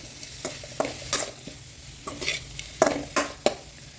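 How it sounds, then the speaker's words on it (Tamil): Soaked, drained poha stirred in a pan with a spoon, giving a series of soft scraping strokes and light clinks against the metal with a faint sizzle underneath, close up and without talk. "அப்படியே இதை கிளறி விட்டுடலாம்."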